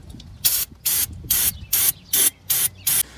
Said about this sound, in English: Some carb cleaner.